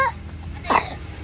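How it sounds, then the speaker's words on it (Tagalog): A child's single short cough near the middle, close and moderately loud over a quiet room hum, with a faint whimpering sound at the very start. "inuubo bigla"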